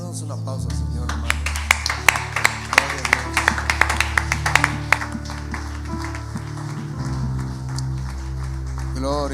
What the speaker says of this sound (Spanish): Damos un aplauso al Señor, hermano.